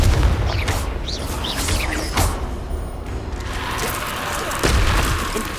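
Incendio and Confringo spells in Hogwarts Legacy fire off as repeated loud booming blasts and whooshes in quick succession, close and dense, with a voice calling out over the effects.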